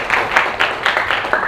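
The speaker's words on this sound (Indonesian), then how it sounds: "Tepuk tangan dulu dong untuk kalian" Students clapping together in a geography classroom, a quick run of about eight fairly even hand claps at close range, with no talking over them.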